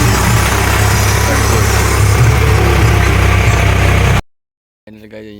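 A farm tractor's diesel engine runs loud and close in a steady chugging drone for about four seconds, then cuts off abruptly, and a brief voice follows.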